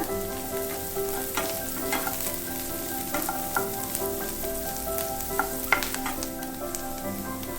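Sliced onions and green chillies sauté in oil for cabbage poriyal, a close steady sizzle punctuated by repeated scraping and tapping of a spatula in the pan, with no speech.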